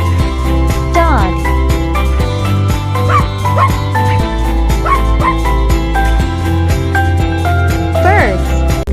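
A dog barks and yips in short bursts over continuous loud music, with several sharp calls spaced across the clip.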